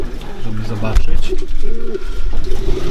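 Pigeons coo close by in a loft in repeated soft, throaty calls, with someone speaking over them and a brief knock partway through.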